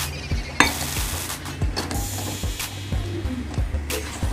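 A meat blender grinds chili sauce ingredients for chicken sempol, a steady mechanical whir with rhythmic clicking and knocking pulses repeating about twice a second, close and moderately loud.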